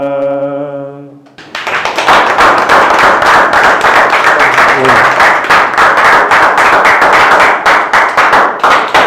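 Loud, dense applause from an audience at an MMA refereeing seminar ceremony bursts in right after a short sung melody and continues steadily at close range.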